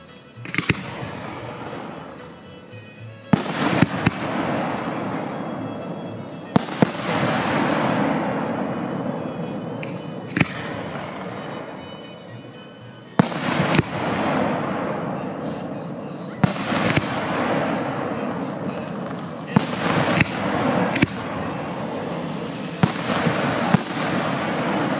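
Dominator 2.5-inch assorted firework shells fired on a time chain from mortar guns: a sequence of sharp launch thumps and loud bursts, each followed by long crackling, sizzling trails, repeating steadily with no talk.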